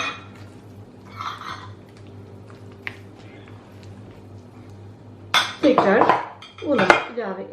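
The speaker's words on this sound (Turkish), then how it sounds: "Şimdi bu malzemelerimi bir karıştıracağım." Orange cookie ingredients with baking soda being mixed in a bowl: a quiet stretch with faint clinks, then two bursts of utensil scraping and clattering against the bowl near the end.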